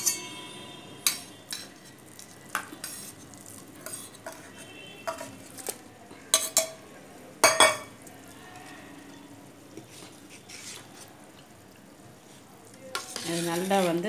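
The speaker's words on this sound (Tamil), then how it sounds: "இந்த விழுதை வந்து நம்ம ஆல்ரெடி இருக்கிற அந்த மோரில் வந்து நம்ம மிக்ஸ் பண்ண போகிறோம்" A spoon stirs ground paste into buttermilk in a pot, scattered sharp clinks against the metal over a low, steady background, with a brief bubbling or splashing swirl at the end.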